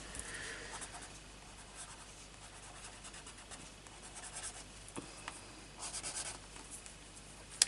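Chalk crayons scrape and scratch across paper in soft, continuous strokes, with brief louder bursts of colouring, close and quiet with no talking.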